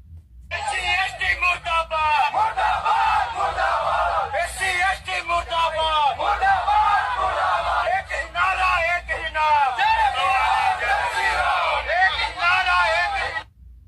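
A protest crowd shouts anti-SC/ST slogans, with dense overlapping voices, yells and rhythmic chanting filling the whole stretch, loud and close, carried by a steady low hum.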